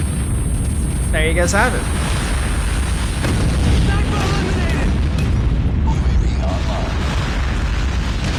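A nuke detonation in Call of Duty Mobile, sniper-only Killhouse map, rumbles as a loud sustained roar of explosion noise, with a player talking over it.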